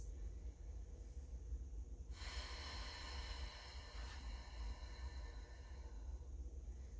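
One slow, deep breath through the nose during a gentle yoga bridge pose, a soft airy inhale that swells and fades over several seconds against a low hum.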